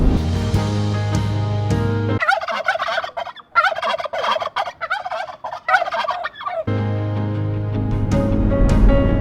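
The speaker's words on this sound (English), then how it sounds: "there's a flock of about 25 turkeys right in front of me" A flock of about 25 wild turkeys gobbles loudly and repeatedly in overlapping bursts, close by, with steady outdoor background between the calls.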